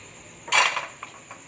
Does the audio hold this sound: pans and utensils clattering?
yes